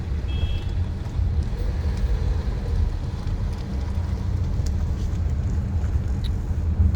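A Tata Sierra moving along with a steady, loud low engine drone and road rumble heard from inside the cabin, continuous throughout with a faint high beep near the start.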